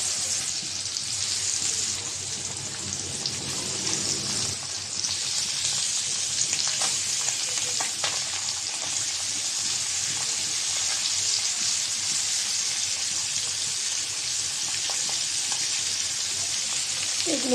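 Spiced, marinated fish frying in oil on a tawa, a steady close sizzle with occasional pops and a louder burst as pieces go in, no talking.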